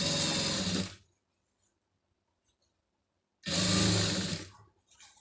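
A sewing machine stitches a cross-cut fabric piece along its edge for a neck design, running in two short loud bursts separated by a quiet pause.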